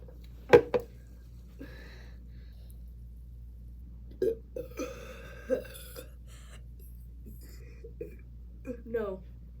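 A person burps after chugging a bubbly sparkling water, several short throaty burps and gulping noises spaced across the clip, close and dry, with a little vocal sound between them.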